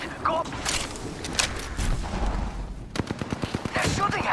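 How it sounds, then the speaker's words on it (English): Rapid bursts of gunfire in the battle-royale game Apex Legends, loud and close, with a tight run of evenly spaced shots near the end over general game noise and some talk. "They're shooting at me"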